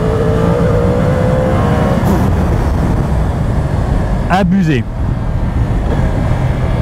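Motorcycle accelerating hard, a loud continuous engine roar with rising tone, then a brief quick gear-change sweep near the end; an excited voice exclaims over it.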